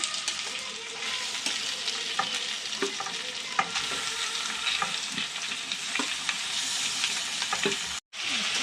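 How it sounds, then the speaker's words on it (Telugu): Grated potatoes sizzle steadily in a hot pan, the frying hiss constant and close while a utensil scrapes and taps as they're stirred, with a brief break near the end. "అదిగోండి బంగాళదుంప ఫ్రై చేస్తున్నారు"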